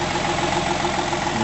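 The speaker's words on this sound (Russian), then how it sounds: "М129 мотор," Mercedes-Benz M129 engine with mechanical fuel injection in a 1967 Mercedes-Benz 250 idles at slightly raised revs, a steady close rumbling hum with no voices.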